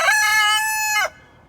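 A single rooster crow rings out loud and close, holding a long, strident note for about a second before cutting off into near silence.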